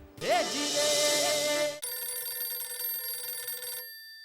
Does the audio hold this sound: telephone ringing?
yes